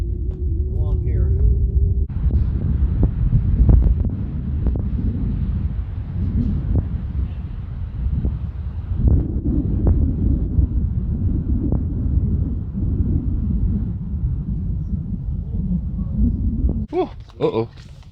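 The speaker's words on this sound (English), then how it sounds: "It's just a little windy here." Wind blows across the microphone outdoors on a rocky ridge, a heavy, steady low rumble with thumping gusts that lasts throughout, with people talking now and then beneath it.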